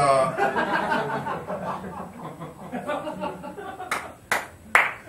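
During a wrestling chat show, a single person claps a few sharp, isolated times near the end, after a stretch of talk and chuckling from the people present.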